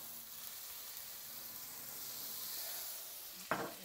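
Butter and oil fry in a pan with a faint, steady sizzle, quiet and hissy throughout, ending in a brief sharp clatter near the end.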